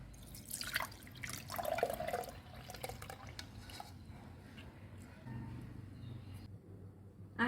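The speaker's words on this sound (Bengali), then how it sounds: "এবার আমি আখের রসটা ছেঁকে নিচ্ছি।" Sugarcane juice is strained at home for tea, and thin liquid trickles and drips faintly and close by in a gentle, uneven stream that fades out toward the end, with no talk.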